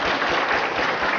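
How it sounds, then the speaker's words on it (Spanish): A brief burst of audience applause: many hands clapping in a dense, continuous patter that holds steady for just over a second. "Así que un aplauso para él."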